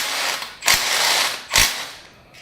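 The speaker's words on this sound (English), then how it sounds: "Tighten it down, hold on to the bolt." Mechanical ratcheting while a bolt is tightened during assembly of an American Queen BBQ grill by Moss Grills, two loud bursts of clicking about a second apart over a steady background hiss.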